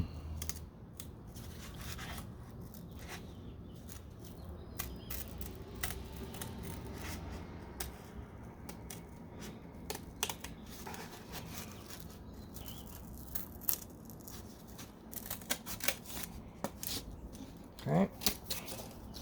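Scissors snip through a paper or cardboard template for the door bodywork of a 1969 C3 Corvette in a workshop, giving scattered short cuts and rustles over a low room hum, louder near the end.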